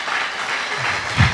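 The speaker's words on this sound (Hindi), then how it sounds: "मुझे लगा यहाँ ताली बजेगी।" An audience at a church teaching session claps steadily, a moderate even patter of many hands with a short low thump near the end.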